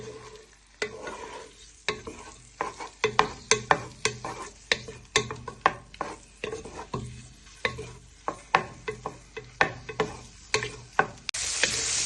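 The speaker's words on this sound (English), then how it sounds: "So what we're going to do is just going to fry these and then we add in our onion and garlic." Sausages frying in a pan for a sausage and thyme ragu, with a steady sizzle under many sharp clicks and scrapes of stirring, close and fairly loud throughout.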